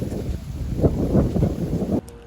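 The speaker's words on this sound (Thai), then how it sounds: "จุดชมวิวตรงนี้ลมแรงมากค่ะ" Strong wind buffeting the microphone at a mountain viewpoint above Lam Takhong Dam, a loud, low, gusty rumble that drops away abruptly near the end.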